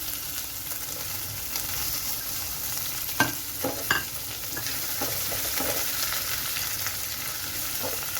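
Curry leaves and crushed spices frying in a pan for amla rasam, with a steady close sizzle and a few sharp scrapes and taps of a spoon against the pan partway through.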